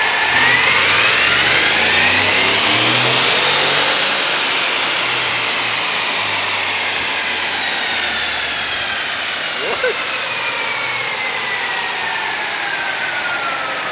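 Stock Ford F150 5.0 V8 with a 10-speed transmission pulling hard on a dyno, loud sustained engine roar rising through gears with tire and cooling fan noise, a rising whine, continuous throughout.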